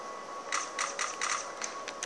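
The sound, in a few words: typing the Enter key on a computer keyboard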